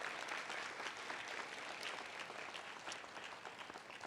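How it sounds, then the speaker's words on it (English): Audience applause at a school honors night ceremony, a steady, dense wash of clapping from a crowd that continues throughout and fades slightly toward the end, with no talking over it. "another round of applause"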